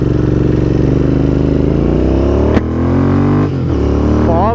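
A Royal Enfield Continental GT 650 motorcycle rides off, its engine loud and near, revving up through gear shifts with brief dips between them.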